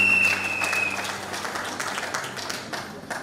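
An audience applauds at an inauguration ceremony, sustained clapping that starts strong and slowly thins and fades, with a faint tone and murmur underneath.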